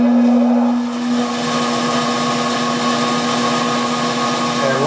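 Grizzly G0514X2B 19-inch bandsaw running after start-up, a steady motor hum with a constant tonal whine and light whir from the wheels, fairly loud and unchanging.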